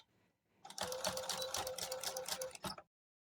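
A sewing machine stitches in the ditch on a quilt with a quarter-inch presser foot, a close, steady rapid whirring run of about two seconds that stops abruptly after a brief pause and restart.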